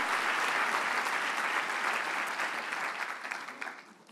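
Sustained audience applause fills a party congress hall, dense and steady clapping that stays loud before tapering off slightly at the end.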